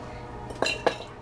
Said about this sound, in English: These do get on your fingers. I usually get them out with a spoon